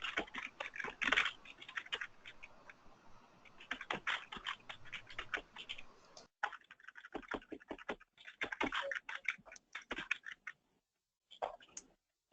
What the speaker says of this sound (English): I know Adenia is actually typing